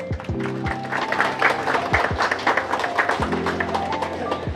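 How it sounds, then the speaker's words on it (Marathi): An audience applauds at a gym inauguration and felicitation ceremony in a housing society park; a scattered, moderate clatter of clapping runs throughout while a voice briefly sounds over it near the start and again later. "जरा टाळ्या होऊन देत."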